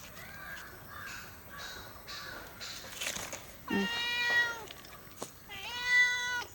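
A cat gives two long, loud meows close by, with fainter crow caws and a few softer sounds earlier in the background.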